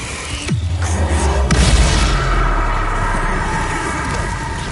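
Confringo spell explosion in the Hogwarts Legacy video game on PS5, a loud booming blast with a sharp onset followed by a rumbling low tail, then a second burst, with no talk.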